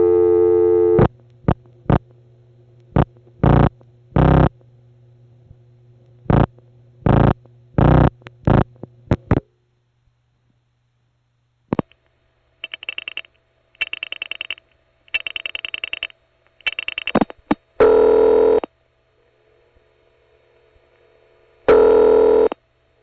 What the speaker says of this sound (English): these calls are going direct over N1 carrier from the Mamaroneck office to Bushwick, and then it dial pulses into whatever PBX is appropriate